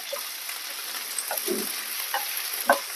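Chana dal, green chili, ginger and onion are stirred in a hot pan, with a steady soft sizzle of frying under a few scraping strokes of the spoon. The strokes are close and fairly quiet, and no one speaks.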